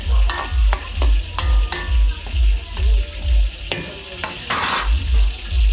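Garlic and onion sautéing in a pan for catering food, with steady sizzling and repeated rhythmic scraping strokes of a spatula stirring, loud and close, no talk.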